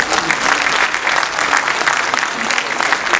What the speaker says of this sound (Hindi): एक बार ताली बजा के मुझे माहौल दीजिए।